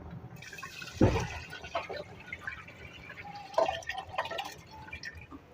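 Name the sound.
water and rice poured into pot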